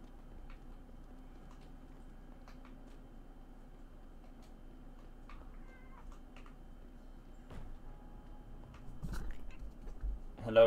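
A cat meows faintly in a video game, with soft brief calls over a quiet steady background, a few ticks and light clicks, and a louder thump near the end.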